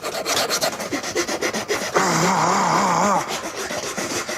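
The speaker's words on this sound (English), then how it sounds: "filing it down looks exhausting" The edge of a wooden toilet seat is worked with a file, giving close, rhythmic rasping strokes of scraping wood, with one longer, smoother grinding pass in the middle.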